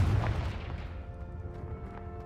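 A deep, heavy blast from the Confringo spell in the Hogwarts Legacy video game opens loud and close, then fades into a rumbling decay with faint tonal ringing.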